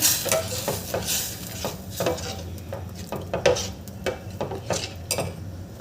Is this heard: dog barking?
no